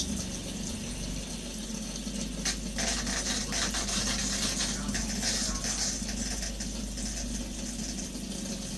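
Hot water runs steadily from an RV shower in a toy hauler during winterizing, a continuous hiss of spray with a low pump-like hum underneath, close and unbroken.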